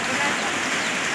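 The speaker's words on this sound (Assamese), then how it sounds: "বৰষুণ দি আছে দেখিছে নাই" Steady rain falls outdoors during a Janmashtami festival outing in Assam, a dense even hiss throughout the brief moment.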